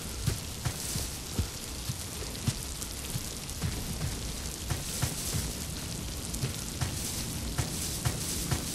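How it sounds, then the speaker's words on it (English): Steady rain pours down in the survival exploration game Miasmata, a dense constant hiss close around, with soft regular thumps like a heartbeat repeating underneath, no voices. "let's see what structure awaits in the rain"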